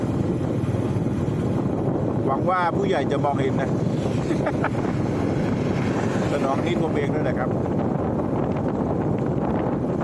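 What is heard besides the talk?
strong wind blowing (wind noise on microphone)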